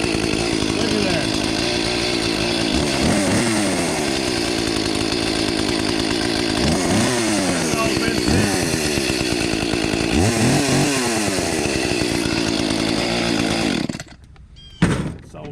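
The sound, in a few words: Echo chainsaw running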